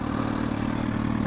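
A 2015 Suzuki GSX-R 1000 engine at half throttle gives a steady, loud, low droning roar with no break and no talking.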